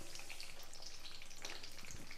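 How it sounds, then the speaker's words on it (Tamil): Small shallots dropped into hot oil for a kuzhambu, a bright crackling sizzle with quick popping spits, close and steady for a couple of seconds. "இதில் நான் 1 கைப்பிடி சின்ன வெங்காயம் சேர்க்குறேன்"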